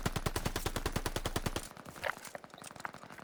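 Rapid automatic gunfire from a Call of Duty weapon strafing walls, a dense evenly spaced burst that stops abruptly, followed by fainter scattered shots and impacts.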